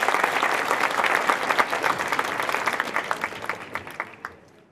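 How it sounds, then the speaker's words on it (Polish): Warm applause from a concert audience in Krynica greets the performers, dense clapping at first that thins into scattered claps and fades out near the end. "gorące brawa!"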